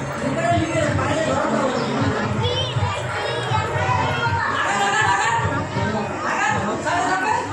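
Worshippers crowd a temple on the first Monday of Shravan to pour water on a Shiva lingam inside a banyan tree, producing a loud, unbroken hubbub of adult and children's voices chattering and calling nearby.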